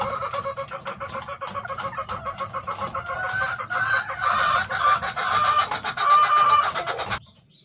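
A breeding hen clucks in a steady run of low, close calls that rise into a longer drawn-out squawking cry toward the end, with no talk over it.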